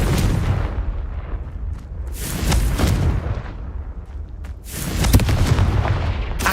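Confringo blasting spell explosions in Hogwarts Legacy, several loud booming blasts in succession with sharp crackling bursts and rumbling tails between them.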